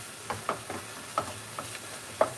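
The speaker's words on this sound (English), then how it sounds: "I'm stirring it now just to make sure it doesn't stick and burn." A spoon or spatula stirs thick vindaloo curry sauce in a pan, giving a series of soft, irregular scraping and squelching strokes over a faint background sizzle, with no talk.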